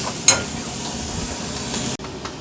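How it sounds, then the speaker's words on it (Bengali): Capsicum lightly fries in a pan for paneer pulao, a hissing sizzle with a brief clatter near the start before the sound drops sharply and continues more quietly. "ক্যাপসিকামটা একটু হালকা ফ্রাই করে নিয়ে"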